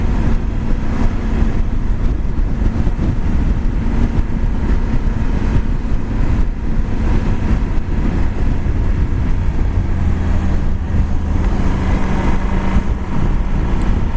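A Yamaha Super Tenere adventure motorcycle's engine runs under way, a loud steady low rumble blended with heavy wind buffeting that holds constant throughout, with no talking.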